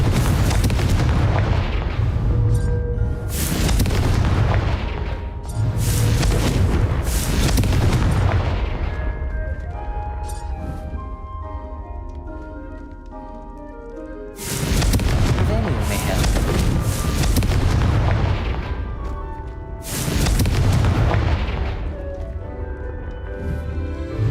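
Confringo explosive curses blast repeatedly in Hogwarts Legacy, loud booming explosions in clusters with quieter gaps between, backed by ongoing game music and occasional spoken voices.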